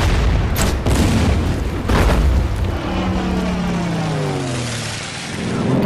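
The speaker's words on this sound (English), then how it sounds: "I'm really tired of that artillery." Heavy artillery in the Order of Battle: Winter War strategy game sets off several deep booms in quick succession, followed by a lingering rumble and falling tones as the blasts fade.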